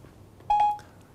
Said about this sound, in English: That beep beep was Siri thinking I was calling her